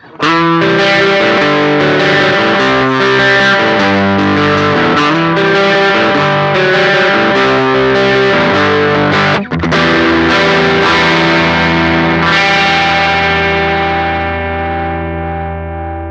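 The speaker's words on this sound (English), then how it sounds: "in distortion mode, we have a little tighter low end and a little bit more breakup than overdrive, and a little more aggressive too" An electric guitar runs through a Harby Pedals Noble Tone drive pedal set to distortion mode, playing loud, aggressive sustained chords and riffs with a brief break near the middle before a final chord rings out and fades.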